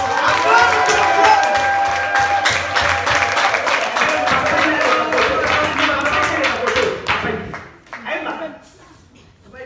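A church congregation applauding and cheering in worship, sustained dense clapping and voices that fade out toward the end.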